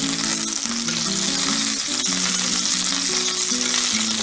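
Salmon fillet frying skin side down in a pan, giving a steady bright sizzle with a soft background tone that holds evenly and uninterrupted.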